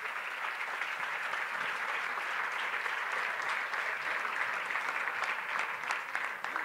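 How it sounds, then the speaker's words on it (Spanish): Loud, dense audience applause for four women's basketball players at a league season presentation, a continuous wash of clapping from a large crowd. "un fuerte aplauso para las cuatro"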